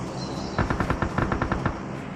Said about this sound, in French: Putain, ça tire vraiment en fait